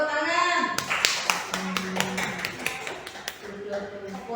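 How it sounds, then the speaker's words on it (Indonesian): Children in a classroom clap their hands together in a lively burst of applause, with overlapping claps and some voices and chatter around them. "Pinter. Tepuk tangan."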